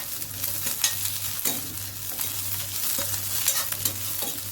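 Green chilies, ginger and garlic sauté in a pan with a busy, close sizzle and repeated scraping stir strokes, steady and without voices.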